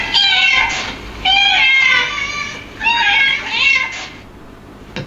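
Several cats meow in drawn-out, wavering calls that come in three or four loud bursts, close by, with brief quieter gaps between them.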